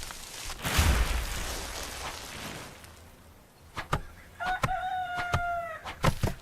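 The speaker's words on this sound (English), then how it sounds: "I just heard a chicken." A chicken in the video game Medieval Frontiers gives a short run of clucks late on, heard after a stretch of rustling noise and amid sharp woody knocks, with no talk.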